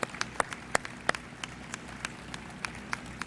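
An audience at the grand opening of the Buckhead Atlanta luxury shopping district gives sparse applause: a few faint, scattered claps spaced out over a low, steady background hum.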